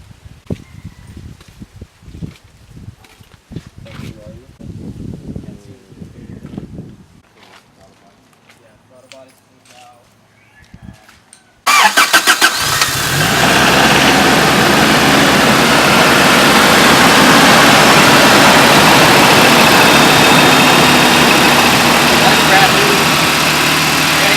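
A Toyota pickup's 22RE engine turns over and catches, then settles into a loud, steady idle that drowns everything; before it, quieter rustling and movement sounds.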